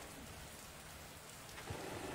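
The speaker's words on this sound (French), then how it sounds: "quelques gouttes de pluie tombent doucement" Light rain falls softly under a cloudy sky, giving a faint, steady hiss of drops with no voices over it.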